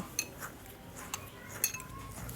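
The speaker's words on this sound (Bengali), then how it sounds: "এখন ফেটে নেব, আলতো করে ফেটে নেব" Eggs beaten gently with a spoon in a bowl, light clinking taps at irregular intervals, quiet and close, with no talking.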